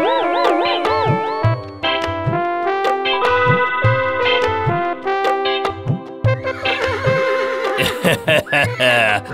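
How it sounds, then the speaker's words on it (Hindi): A cartoon horse from a Hindi magical story whinnies loudly over background music with clip-clop hoofbeats, several drawn-out neighs in the first seconds, then busier musical sounds toward the end. "राजा का घोड़ा है ना"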